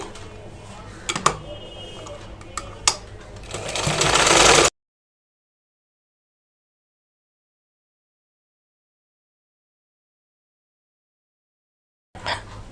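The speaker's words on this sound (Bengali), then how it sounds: "নিয়ে এবার আমি সেলাইটা করে নিচ্ছি" A sewing machine stitches the sleeve joint of a bra-cut double katori blouse, running in a brief whirring burst that swells for a few seconds before cutting to long silence and a short restart at the end.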